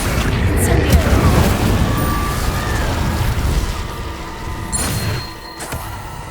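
Confringo and Incendio spells cast in Hogwarts Legacy erupt in heavy, rumbling blasts with a crackling, fiery roar that holds steady before fading near the end.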